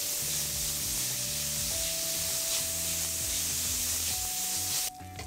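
Beef bacon sizzling in a pan with a steady, bright frying hiss that runs under louder background music.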